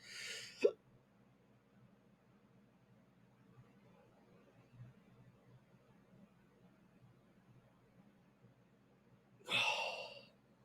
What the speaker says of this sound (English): What do you have to do to stop the hiccups?